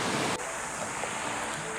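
Steady wash of surf breaking on a shore, a broad hissing roar of water with a little wind, no voices.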